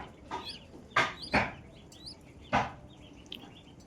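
Young Chinese and Khaki Campbell ducklings being brooded give scattered, high chirping peeps, broken by a few louder, sharper calls close by, fairly quiet overall with no voices.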